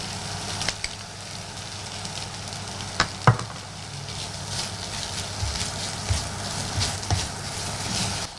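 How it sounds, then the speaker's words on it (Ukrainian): Onion, carrot and beetroot fry in a pan for borscht, giving a steady close sizzle throughout with a few sharp clicks and stirring knocks, no voices. "Цибулю разом з морквою та буряком обсмажуємо на сковороді."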